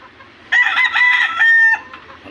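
A rooster crows loudly and close in a backyard, one long strained call with clucking chickens around it, followed by quieter background clucks.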